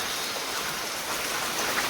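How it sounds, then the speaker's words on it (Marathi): Heavy rain pours down in a dense, steady hiss, loud and unbroken throughout with no voices. "इकडे बघा पाऊस खूप पडतोय खूप म्हणजे खूपच आहे"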